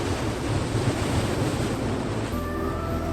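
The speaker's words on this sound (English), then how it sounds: "this is one of the areas where the waves crash over the rocks" Ocean surf crashes over coastal rocks at Bombo, Australia, a continuous loud roar of breaking water with wind buffeting the microphone, easing slightly near the end.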